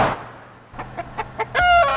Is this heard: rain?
no